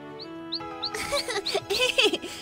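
A small bird gives a few thin high chirps, then a busier run of quick tweets and cartoonish chatter in a children's animated scene, close and clear over a soft musical tone.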